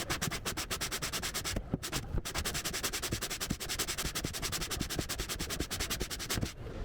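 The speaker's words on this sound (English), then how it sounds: "I used the concave sanding block to sand out the" Concave sanding block rubbed over the wood of an acoustic guitar body, a steady run of quick, even rasping strokes close by with a couple of brief pauses.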